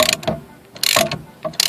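A ratchet wrench turning a 13/16 inch 12-point socket to loosen a bolt under a Ford Festiva steering column clicks in three quick bursts of rapid ratcheting, close and loud, with no talking.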